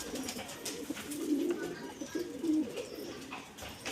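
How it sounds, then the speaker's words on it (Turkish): Several pigeons in a coop coo softly in repeated low, throaty phrases, close by with a little background noise and no talking. "kümesin keyfi yerinde ötüyor hepsi"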